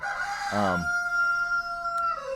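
A rooster crows nearby, a short strained cock-a-doodle-doo with a drawn-out final note, heard clearly indoors.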